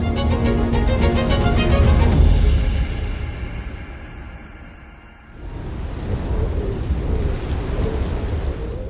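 Heavy rain and rolling thunder at Mawsynram, Meghalaya, the world's wettest place: a dense, steady roar of downpour with a loud thunder rumble building early, easing mid-clip, then rain swelling back up, no voices.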